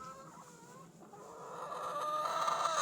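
Chickens clucking and calling near a coop, close and fairly loud, the cackling rising and growing busier toward the end.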